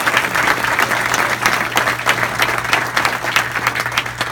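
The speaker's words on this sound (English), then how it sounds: "Give them a round of applause." Steady applause from a crowd, dense clapping sustained throughout with no pauses, fairly loud and close.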